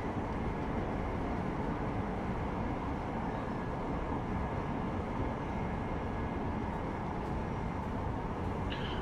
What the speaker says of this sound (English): that bloody train